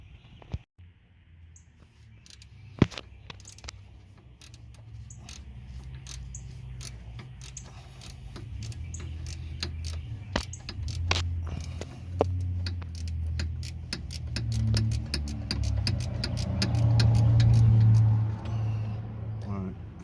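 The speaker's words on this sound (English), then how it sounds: "first bolt's out, and this second bolt is about to come out" Sway bar bolts come off a 2000-2005 Chevrolet Impala, heard as metallic clicks, ratchet taps and clanks close by, with a rising low mechanical rumble and someone talking throughout.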